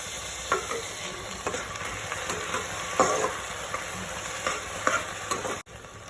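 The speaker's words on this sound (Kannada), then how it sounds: "ಈಗ ಅದಕ್ಕೆ ಟೊಮೆಟೊವನ್ನು ಹಾಕಿ ಫ್ರೈ ಮಾಡ್ಕೊಳ್ಳೋಣ" Tomatoes frying with browned onions in oil in a pan, a continuous soft sizzle broken by periodic stirring scrapes and clinks, close and alone with no talking.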